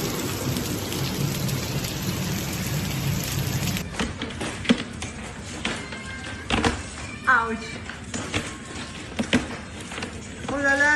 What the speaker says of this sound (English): a severe hailstorm impacted several areas on May 2nd, blanketed streets in white